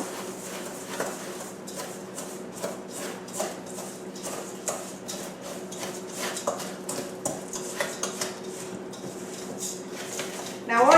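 Melted salted butter is mixed into a bowl of crumbs for a no-bake ginger cheesecake, making repeated soft scraping and clinking sounds from a utensil against the bowl.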